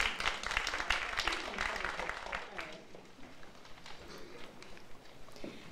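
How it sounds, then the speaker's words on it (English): Applause for breast cancer survivors at a gathering: a burst of audience clapping that fades after about three seconds into scattered claps and low room noise, with some voices murmuring. "So a little round of applause for that"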